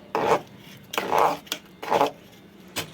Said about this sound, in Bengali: এরপরে ভালো করে মশলাটা মিশিয়ে নেব